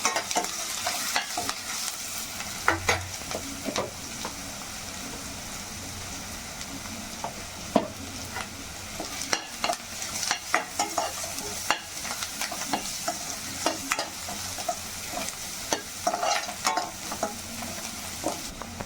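A curry base of egg-omelette curry sizzles in a hot pan after turmeric goes in, with steady frying hiss and repeated scraping, stirring strokes of a spoon, close and continuous with no talking.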